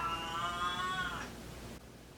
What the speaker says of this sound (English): That's my cat, if you've never met her. She's Siamese and super loud.